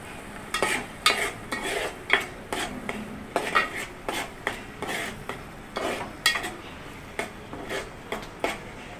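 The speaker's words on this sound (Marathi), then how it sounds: "एकदम भाजून देऊया मग याला एकदम तेल सुटे" Masala is roasted in oil in a pan for egg curry, with a soft sizzle under repeated scraping and clinking as a utensil stirs against the pan.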